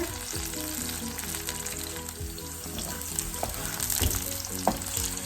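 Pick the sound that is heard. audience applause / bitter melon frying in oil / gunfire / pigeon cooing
bitter melon frying in oil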